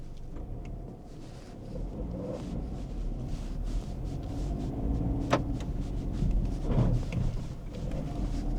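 A Renault Duster SUV climbing a motocross track, with a low engine rumble swelling steadily from inside the cabin, plus scattered knocks and rattles.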